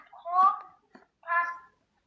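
A domestic cat meows twice, close and clear: a drawn-out wavering call, a tiny chirp, then a shorter rising meow, with silence between.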